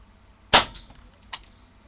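A single sharp airsoft gun shot is fired at short range indoors, a crisp snap followed by quick ticking impacts, alone in a quiet room.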